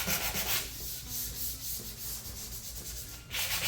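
Steady rasping of sandpaper rubbing over a painted surface, with louder strokes at the start and end and a softer continuous scrub in between.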